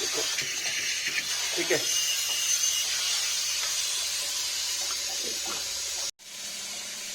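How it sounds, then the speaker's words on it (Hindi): Water runs steadily into a Livpure water purifier, a continuous hissing flow close by that stops abruptly near the end, with someone speaking briefly over it. "ये देखो पानी भी इसमें आ रहा"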